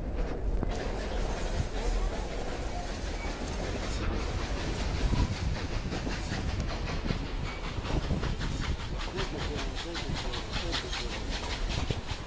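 A tourist steam train on the Durango and Silverton narrow-gauge railway runs steadily close by, with continuous rumble, hiss and rhythmic chuffing that grows more regular later on.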